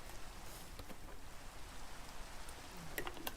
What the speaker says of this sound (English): Oh, rain at the same time.